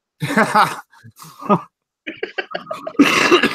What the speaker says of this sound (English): right in the middle of going to clear my throat